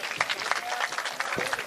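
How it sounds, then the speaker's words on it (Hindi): Applause from an audience at a Hindi kavi sammelan and mushaira poetry gathering in Bajpur, steady scattered clapping filling the room for the whole moment, with a voice faintly audible beneath it. "थोड़ा सा तालियों से आदेशित कर दो कि मैं अपने रंग में आ जाऊं"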